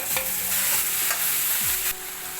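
Tomatoes fry with onion and ginger-garlic paste for Mumbai street-style pav bhaji, a loud continuous close sizzle with a few spoon scrapes against the pan, no talking.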